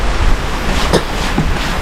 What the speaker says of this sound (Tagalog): Yan po, umulan na naman.